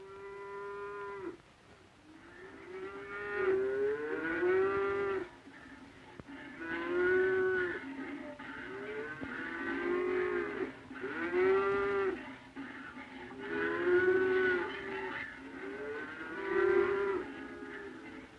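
Dairy cows on a farm where they are milked twice daily call out in repeated, drawn-out moos, one after another over about eighteen seconds, fairly close and clear with no talk.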